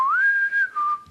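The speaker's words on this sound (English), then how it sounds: "he knows how to blow the sailor's whistle" A sailor's whistle blown once, a bright, loud sustained tone that slides up at the start, then steps down to a slightly lower pitch near the end, with nothing else heard.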